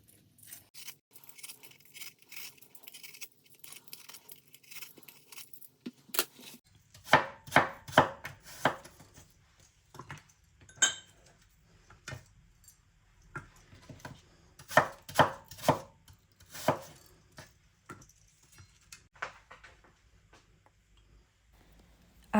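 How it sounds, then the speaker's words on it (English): A knife chops washed, peeled and cored apples on a board in a kitchen, starting with quiet taps and then turning to bursts of crisp, rhythmic chops that stop and start, close and clear, with no talking. "I washed, peeled, cored and chopped some apples"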